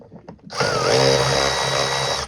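A power screwdriver whirs loudly and steadily, close by, after a brief quiet start, undoing the air filter housing screws on a Citroen C3 1.6 HDI.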